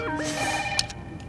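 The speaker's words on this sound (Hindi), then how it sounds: "फोन बज रहा है" A telephone rings in an indoor scene from a Hindi comedy series, a bright electronic warble repeating in quick bursts, loud and close, with no voices over it.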